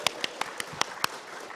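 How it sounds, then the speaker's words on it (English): Six sharp, evenly spaced claps ring out from an audience at a PAX East 2023 convention drag panel, brief and fairly faint in a large room, with no one speaking over them. "Give yourselves a round of applause."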